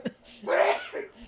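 A single close sneeze bursts out after a short intake of breath, followed by a faint exhale.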